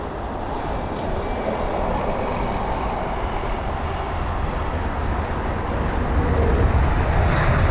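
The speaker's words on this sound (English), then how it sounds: "We've got the A319 up next." An Airbus A319 at London Heathrow produces a continuous broadband engine roar that holds steady and grows slightly louder toward the end, with no talking.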